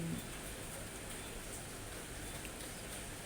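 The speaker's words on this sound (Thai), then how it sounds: "ฝนตก" Steady rain falls during a cool, wet day in Laos, a constant even hiss with no distinct drops standing out, alone with no talking.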